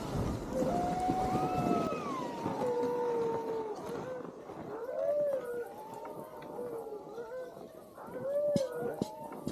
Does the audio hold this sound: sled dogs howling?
yes